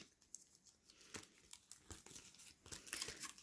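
Diamond painting stickers being peeled off their backing sheet, with a run of light crinkling, tearing rustles and small ticks, fairly quiet and close, with no talking.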